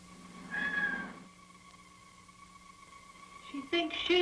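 A woman imitates a cat, letting out a drawn-out nasal meow, then after a quiet pause with a steady background hum, a few shorter mewing calls close by.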